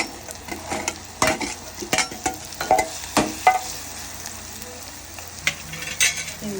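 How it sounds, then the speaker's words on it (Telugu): Fried amaranth leaves and vegetarian liver pieces tipped into a hot pan for a Bhimavaram-style thotakura liver fry, bringing a steady sizzle with repeated spoon scrapes and stirring clinks close by. "తోటకూర వేపించిన ముక్కలు ఉన్నాయి కదండి, లివర్ ముక్కలు, ఈ ముక్కలు ఇందులో వేసుకోవాలి."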